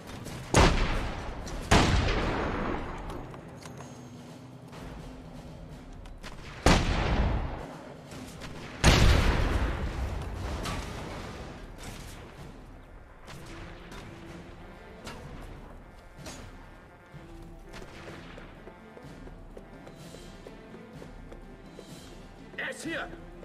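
Gunfire in the video game The Saboteur: several loud sharp shots and bursts early on, then a steady rattle of fainter shots continuing, with someone talking over it.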